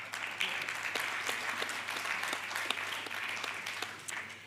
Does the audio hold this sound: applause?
yes